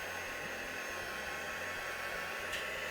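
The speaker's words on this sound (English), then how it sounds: "So excuse me for a minute with the heat gun." A heat gun blows a steady, loud whoosh of hot air while drying ink on matte cardstock, running continuously and close without pause.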